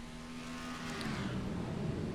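Race car accelerating at an IMSA race start at Daytona in a racing game, engine note climbing steadily as the pack gets going, a sustained, moderately loud roar with other cars blending in around it.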